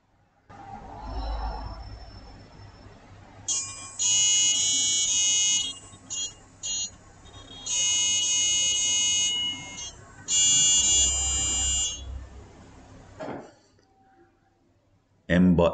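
Buzzer on an mBot robot beeping out the opening bars of Mary Had a Little Lamb, shrill electronic tones in short phrases with gaps, over quiet background hiss and a low hum.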